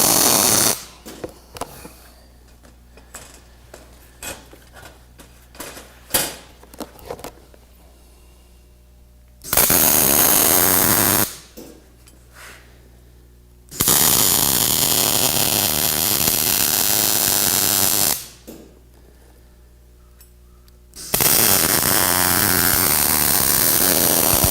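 Welding a fabricated bender mount in a shop: long, loud, harsh crackling buzzes lasting several seconds each, broken by quieter gaps with clinks and handling noises.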